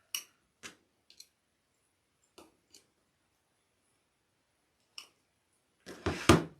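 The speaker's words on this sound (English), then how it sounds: "You can take your wire cutters, not your scissors, your wire cutters." Wire cutters snipping wire while assembling a bunny wreath kit, several crisp isolated snips scattered across otherwise quiet space, close up, followed by a louder rustling handling noise at the end.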